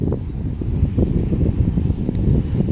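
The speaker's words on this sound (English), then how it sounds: "Sorry, it's a little windy out here." Blustery wind buffeting the microphone in low, rumbling gusts, steady and close for the whole stretch, outdoors on sand.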